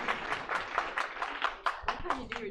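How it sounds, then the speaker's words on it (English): An audience at a data science talk applauds a speaker, a steady patter of claps with voices and a cheer mixed in. "round of applause"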